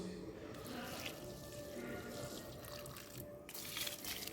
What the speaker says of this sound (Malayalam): കുറച്ച് ചീരയാണ് അതിനൊക്കെ വെള്ളം ഒഴിച്ചു കൊടുത്തു